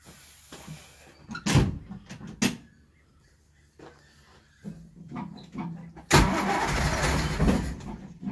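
The engine of a 1964 Triumph P2500 barn find is cranked, with a few scattered clunks and knocks before a loud, steady, churning crank near the end.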